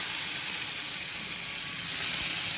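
Garlic frying in hot oil in a pan while making a cheesy pizza, giving a steady, even high hiss and crackle throughout with no pauses, close and moderately loud.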